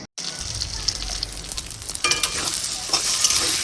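Onion and green chili frying in pure mustard oil in a pan, a loud continuous sizzle broken by scraping and stirring sounds, growing denser after a brief cut near the start.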